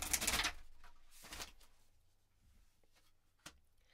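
Tarot cards are shuffled close by in a quiet room: a dense papery riffle burst opens, a second shorter flurry follows about a second later, then a single soft snap near the end.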